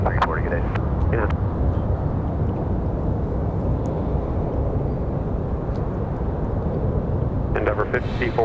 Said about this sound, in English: American 2340 off to Miami. Nice departure for that A319. Good and loud.